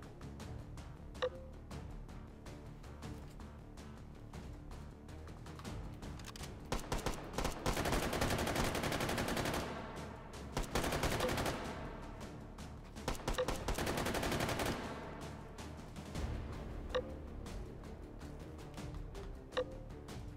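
Bursts of machine gun fire in the VR shooter H3VR, a U52 belt-fed gun in Take & Hold mode, come as two long dense rattling volleys with quieter mechanical ticks between them.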